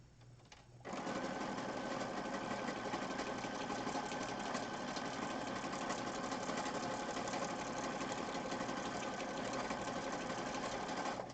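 A sewing machine starts up and stitches fabric in a steady, continuous whirring hum for about ten seconds, close by and unbroken, with no talking.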